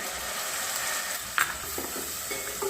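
Continuous sizzle of onions frying golden in a pan as a paste of mustard, ginger, garlic, dried and fresh chilli goes in, with a brief clink of a utensil partway through.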